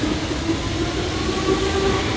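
A new Bangladesh Railway train, with a locomotive numbered in the 6600 series, rumbles steadily at Kamalapur railway station in Dhaka, giving a continuous, fairly loud rolling noise with faint tonal hums and no voices.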